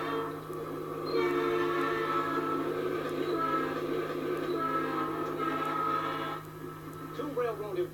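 A runaway single-locomotive train, train 777, sounds a long, loud, steady horn blast for several seconds over a low engine drone, with radio-style talk running alongside.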